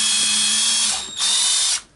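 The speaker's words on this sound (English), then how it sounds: "You just let the drill do its work, because you don't want to split the flourish." A small drill bores a hole through a paper flourish, giving a high whirring whine that dips briefly near the middle, then resumes before cutting off, close and alone.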